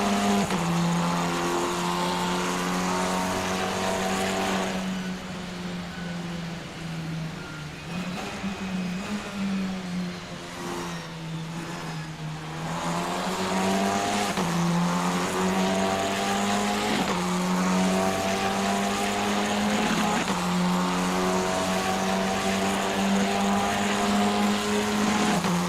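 Formula 4 race cars in a racing game roar steadily around the track, engine notes rising and falling through gear changes, with a dip in intensity midway before the loud, continuous engine drone returns.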